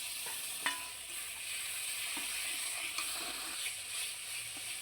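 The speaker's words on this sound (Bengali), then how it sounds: "এইভাবে মিক্সড করে ভালোভাবে মশলাটাকে নেড়ে নিতে হবে" Masala with tomato paste sizzles and fries in a pan, a steady soft hiss broken by a few scraping strokes as the mixture is stirred, fairly quiet and close.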